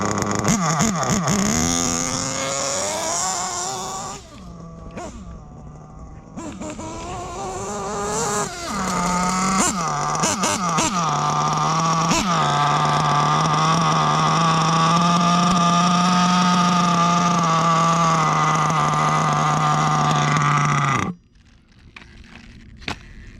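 A small nitro engine of a 1/8-scale RC buggy on a starter bench buzzes loudly, revving and dipping a few times before holding a steady high-pitched idle, then cutting out abruptly near the end.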